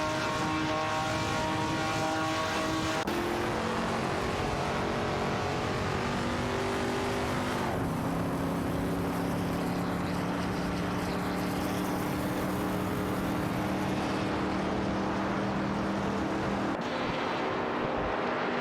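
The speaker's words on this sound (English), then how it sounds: "Racing car dashing away." Simulated racing car engine from an AI racing video game, a loud steady drone that shifts pitch as it passes and pulls away, with gear-change steps and other cars droning alongside throughout.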